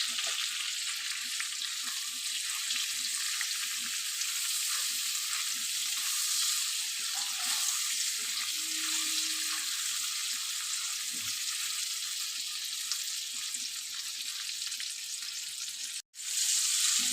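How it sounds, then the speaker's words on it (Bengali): Ground turmeric and chilli powder fry in oil in a pan for a Bengali rohu fish curry, giving a steady broadband sizzle throughout with occasional stirring scrapes and one brief dropout near the end, no talking. "এবার একটু ভেজে নেব ভালো করে।"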